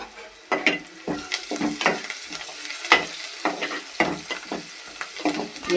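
Salted onions sizzle steadily in a hot pan while a spoon stirs and scrapes them in an irregular rhythm, close up with no talking.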